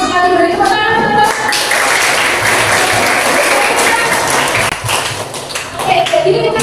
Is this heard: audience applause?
yes